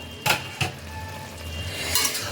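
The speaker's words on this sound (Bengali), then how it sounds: "আবারও এটাকে খানিকক্ষণ একটু নাড়িয়ে চাড়িয়ে নিচ্ছি" Cabbage cooked with fish head stirred in a pot, a few sharp metallic spoon clinks against the vessel over a faint background, with no talk.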